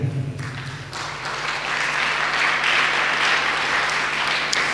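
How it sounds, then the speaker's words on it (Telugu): A congregation at a Catholic prayer service breaks into clapping after a brief low hum, the applause building into a full, steady round of many hands that carries on to the end. "అర్థమైన వాళ్ళు చప్పట్లు కొట్టండి."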